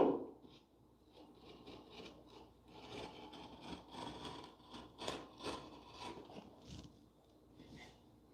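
Chisel held flat trimming plastic edge banding on couch accessories, producing soft repeated scraping and shaving strokes that are faint and close, with no talking.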